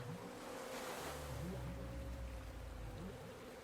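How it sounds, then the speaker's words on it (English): Ocean surf rolls in a steady, continuous wash, with a low droning tone running underneath throughout, heard alone without any voices. "Surrender to that ocean, to the rhythm of the ocean, the consistency of the waves"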